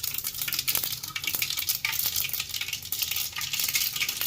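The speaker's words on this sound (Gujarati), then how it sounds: "રાઈનો કોઈ પણ જગ્યાએ વઘાર મારો તો આવી રીતે આમ તડતર તડ બંધ થાય પછી રાઈ ફૂટી જાય" Mustard seeds splutter and crackle in two spoons of hot oil as the tempering for a raw papaya sambharo, a dense continuous sizzle broken by sharp little pops, close and steady, with no voices.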